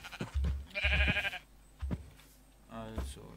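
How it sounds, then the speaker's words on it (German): Sheep bleat close by in a video game, several drawn-out nasal calls in quick succession, with cows nearby and a voice talking between the bleats. "hier sind die Kühe und die Schafe, die hier hinter mir her mähen"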